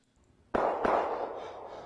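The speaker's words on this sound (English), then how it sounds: "Bro, wake up. I think somebody's shooting outside. It's just fireworks, bro." Fireworks or gunshots popping outside: two sharp, fairly loud bangs about a third of a second apart, each trailing off into a lingering echo.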